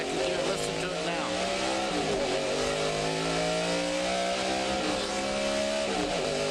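A NASCAR Winston Cup race car engine at Dover Downs drones steadily in second gear at a held pitch, with gear-change dips and slight revving swells throughout, loud and close.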